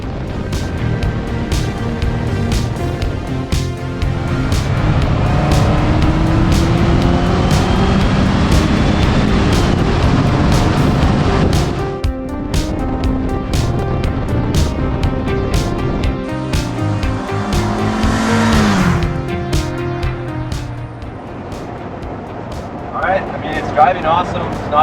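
A 1986 Honda Civic CRX Si on the road, its engine a steady droning hum with passing wind and road noise, shifting in pitch as it accelerates, with a voice talking over it.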